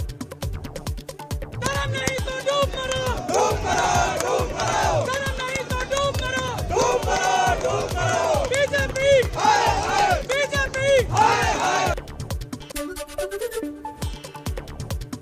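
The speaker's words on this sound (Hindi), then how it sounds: "दिल्ली में आम आदमी पार्टी के दफ्तर पर कार्यकर्ताओं की भारी भीड़" A large crowd of Aam Aadmi Party workers outside the party office in Delhi chanting slogans in loud rhythmic unison, repeated bursts of massed voices rising and falling before fading near the end.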